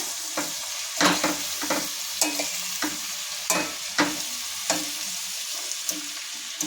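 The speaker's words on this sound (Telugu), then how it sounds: "సరిపడా ఉప్పు పసుపు వేసుకొని ఇలా తిప్పుకోవాలి" Spatula stirring capsicum curry seasoned with salt and turmeric in a pan, with irregular scraping strokes over a soft, steady sizzle, close and moderately loud, no talking.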